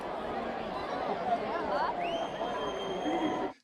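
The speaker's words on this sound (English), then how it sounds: "We have, of course, crowd effects over here" A crowd effect track plays a busy murmur of many voices chattering with some cheering, steady and moderately loud before cutting off abruptly at the end.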